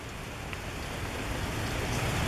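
Steady rain hisses continuously, a dense even patter with no pauses and no voices, heard from under an awning at a rail event.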